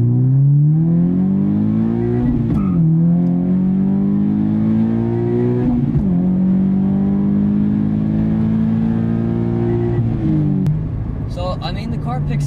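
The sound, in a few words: Subaru BRZ with Berk Technology exhaust, full throttle acceleration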